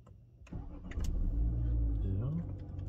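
A Renault Captur's engine is started from the driver's seat: a short crank catches into a steady idle with a brief rise in revs, recorded close inside the car.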